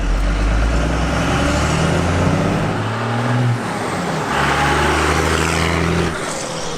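A 1994 Dodge Ram with a Cummins diesel engine rumbles loud and close, its low drone shifting pitch as it revs and eases off, with no talk.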